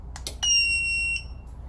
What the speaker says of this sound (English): you can turn the inverter on by pressing this red button and it gives an audible beep.